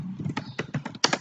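Several quick keystrokes on a computer keyboard, close and fairly loud, as a number is typed in during a beginner Python programming lesson; the clicks come in an uneven burst with no talking.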